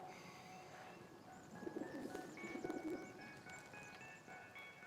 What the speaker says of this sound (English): Pigeons are back.